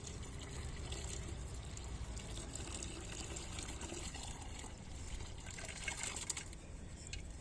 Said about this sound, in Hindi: और आस्ता आस्ता करके इसमें जो गुड़ का पानी में डालूंगा।